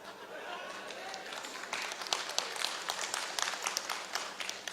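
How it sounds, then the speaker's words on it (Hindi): An audience applauds a speaker at a Hindi-language talk. The clapping swells from a soft patter into a dense, lively burst of many hands that continues to the end. "ताली बजा रहे हो यार,"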